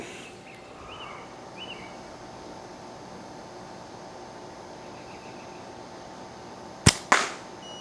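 Two quick slingshot shots with 1632 latex tubes fired over a chronograph, a sharp snap followed closely by a second crack near the end, after several seconds of quiet outdoor background.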